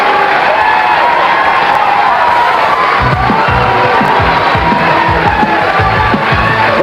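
A capacity crowd at a bowling event at Gable House in Torrance, California, cheers and shouts loudly and continuously, with whoops and applause building into a sustained roar.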